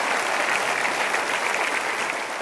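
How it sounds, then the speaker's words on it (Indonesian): An audience claps steadily and fairly loudly throughout, a dense even wash of applause with no talking over it. "Sekali lagi kita berikan aplaus"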